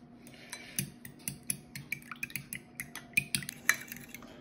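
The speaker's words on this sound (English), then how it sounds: "We need a whisk of eggs." Eggs whisked in a bowl for poppyseed almond muffins, giving a quick, uneven run of close metallic clinks and taps against the bowl with no voices.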